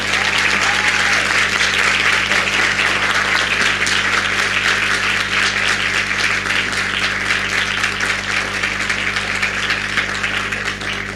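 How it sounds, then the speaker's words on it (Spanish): Steady, sustained audience applause after a talk on therapeutic uses of psilocybin, dense and continuous throughout over a constant low hum, with no pause. "pedirte un aplauso"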